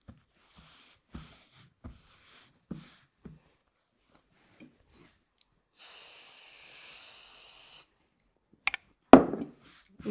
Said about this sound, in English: I'm going to use a little bit of spray just to hold it in place